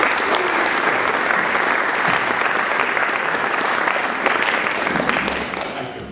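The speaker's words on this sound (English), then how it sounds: "let's give him a round of applause" An audience at First Mennonite gives a round of applause at an interfaith dialogue evening, a loud, even wash of many hands clapping that holds steady before fading near the end.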